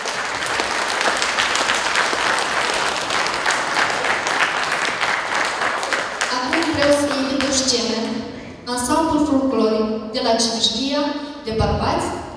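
Audience applause at a village Men's Day show fills the first half with dense, steady clapping, then fades under a speaker addressing the crowd.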